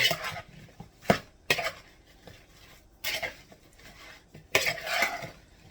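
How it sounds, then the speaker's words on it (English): A spoon scrapes and clanks against a metal pot while beef stew ingredients are stirred to coat them, giving several irregular bursts of clattering and scraping with quiet gaps between them, close and fairly soft. "So now we're gonna stir all this together to coat it all."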